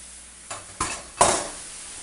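A tofu and vegetable stir-fry with ginger is stirred in a hot pan: three brief scraping, sizzling strokes that grow louder, close by, with no talking.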